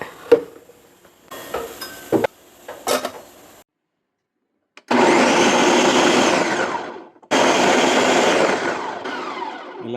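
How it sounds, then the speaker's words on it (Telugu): A mixer grinder whirs loudly in two long runs, a short pause between them, after a few clicks and knocks of handling. "ఇలా మిక్సీ ఆన్ చేసి తిప్పాలి"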